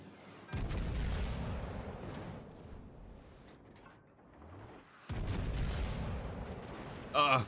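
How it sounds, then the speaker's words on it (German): Stern guns of a warship fire in World of Warships Legends, two deep booming salvos a few seconds apart, each rumbling and decaying, with a sharper sound at the end. "so können wir auf die Atlanta hier mit unseren Heckgeschützen schießen"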